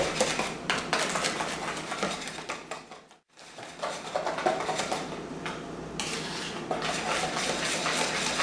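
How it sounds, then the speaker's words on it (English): Sugar is stirred in a bowl for navy bean pie filling, with a spoon clinking and scraping rhythmically against the bowl, close and busy, pausing briefly before the mixing resumes. "Mixing that sugar up real good"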